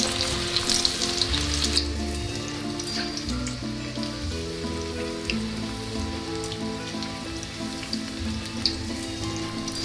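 Spinach pakoras (palak pakoda) deep-frying in hot oil give a steady, close, continuous sizzle with crackling bubbles throughout, and no voices.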